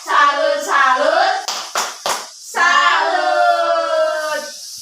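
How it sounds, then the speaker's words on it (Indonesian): A class of children in a lesson performs the tepuk salut clapping chant. Loud, close sung voices come with a few sharp hand claps in the middle. "Kita tepuk salut terlebih dahulu."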